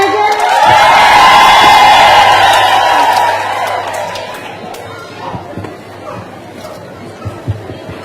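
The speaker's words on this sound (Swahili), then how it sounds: "Shangwe na vigelegele" A crowd at a gathering in Nyeri County cheers loudly with high, wavering ululation for about three seconds, then settles into scattered chatter, claps and knocks.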